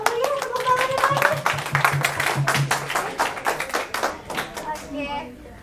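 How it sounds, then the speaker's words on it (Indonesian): A seminar audience at a health event claps together, with dense, rhythmic hand claps close by. Voices and a child's chatter mix in, and the clapping thins out and fades near the end. "Kita berikan tepuk tangan"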